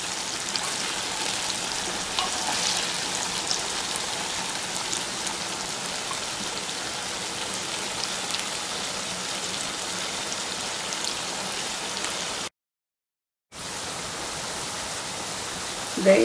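Mango pieces frying in oil for a pickle give a steady, dense sizzling hiss that runs continuously at close range, with a brief gap of silence near the end.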